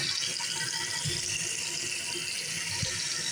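Water pouring steadily from a kitchen sink tap, a continuous close splashing gush with no pauses, fairly loud and alone without talk.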